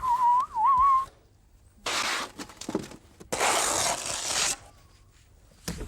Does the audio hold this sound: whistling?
yes